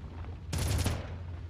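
A short burst of gunshots in the PS2 game Red Faction, fired at a lever, a sharp crackling volley lasting about half a second over a low background rumble.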